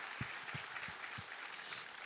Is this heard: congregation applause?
yes